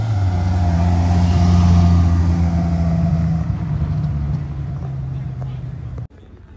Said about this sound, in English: The racing car, super light.